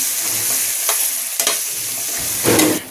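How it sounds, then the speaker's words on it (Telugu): Tempering spices sizzle and fry in hot oil for a tamarind and cucumber pickle while a spoon stirs them in a few short scraping bursts, close and steady with no talk. "తాలింపులు వేసాక ఇలా కలుపుకొని ఒక 2-3 నిమిషాలు ఈ నూనెలో ఇలా మగ్గనిద్దామండి."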